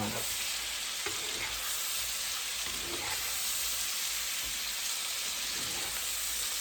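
Potatoes and sausage with mushrooms frying in a pan, seasoned with paprika, giving a loud, dense, continuous sizzle with a few soft knocks of stirring underneath.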